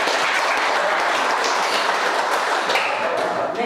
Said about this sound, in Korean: 다시 한번 박수를 한번